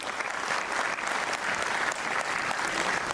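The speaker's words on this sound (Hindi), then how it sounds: "एक बार चेयरमैन साहब के लिए जोरदार तालियां दीजिए।" Loud, sustained applause from a seated audience at a college orientation event honouring the chairman, dense even clapping that holds steady throughout with no voices over it.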